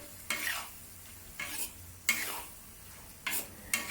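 Beef stir-frying with seasonings for Thai basil beef, a low sizzle punctuated by five sharp bursts of spatula scraping and tossing against the pan, fairly quiet between strokes.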